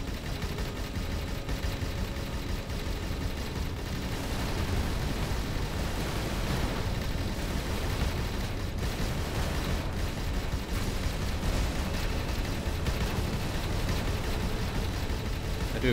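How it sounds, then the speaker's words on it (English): Spaceship explosions in the space game Avorion form a dense, continuous roar of booms and rumbling blasts lasting about sixteen seconds, loud and unbroken, with no talking. "I do appreciate the nice big explosions"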